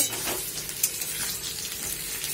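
Potatoes fry in a pan with a steady, faint sizzling hiss, broken by a couple of light stirring scrapes.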